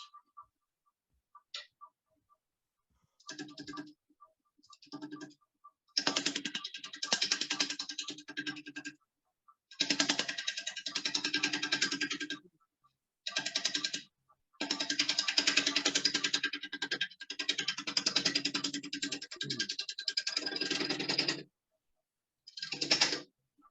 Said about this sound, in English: I'm going to start with a 3/4 inch bowl gouge.